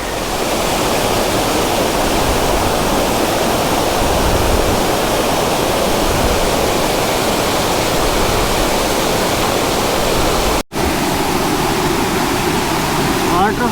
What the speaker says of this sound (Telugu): కొల్లాపూర్ రూట్లో వాటర్ ఫాల్ ఉంది,